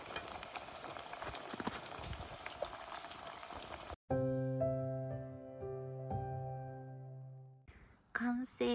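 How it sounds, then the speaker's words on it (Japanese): Sweet potato frying in hot oil gives a dense, steady sizzle for about four seconds, then cuts off abruptly as clear sustained musical tones take over. "次はさつまいもをあげます。"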